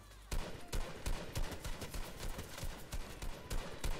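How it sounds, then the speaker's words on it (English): Rapid bursts of gunfire from a Wolverine-skin shooter video game, rattling in quick uneven volleys throughout at moderate loudness. "Oh, we're getting shot at."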